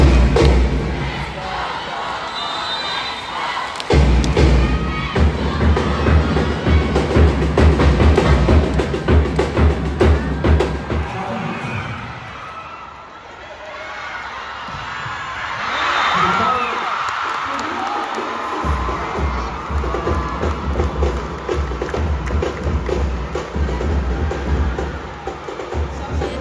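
Live event crowd shouting and cheering in loud, sustained bursts, with thuds and a brief lull midway before the roar builds again.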